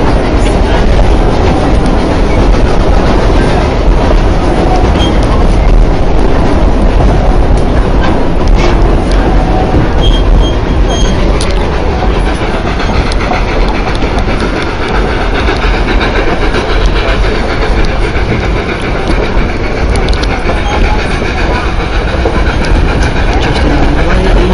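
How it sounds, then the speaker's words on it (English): A Durango and Silverton railroad train passes during a 2011 railfest, its steady rumble and rolling wheel clatter loud and continuous throughout, with no talk over it. "There's the train on the other side."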